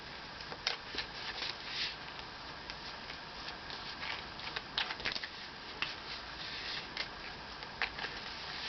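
Tarot cards being shuffled, a soft continuous papery patter with frequent brief riffling clicks, close and fairly quiet, with no talking.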